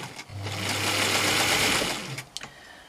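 A sewing machine stitching fabric on a scrap bag or thread catcher runs as a steady, close whirring hum for about two seconds, then stops and is followed by a few small clicks.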